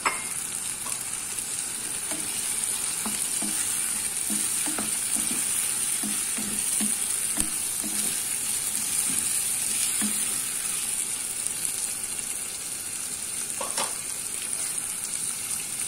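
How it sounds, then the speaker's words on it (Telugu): Prawns frying in a pan for a gongura prawn curry: a steady, close sizzle with a bright hiss throughout, punctuated by soft clinks and scrapes of stirring, no talking. "రొయ్యలు ఫ్రై అవుతాయండి"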